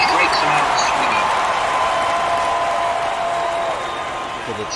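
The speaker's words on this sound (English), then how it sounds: "To the cheer of the faithful 20s fans." Crowd noise from a PC baseball video game: a steady wash of cheering and applause, gradually fading, with a voice talking over it.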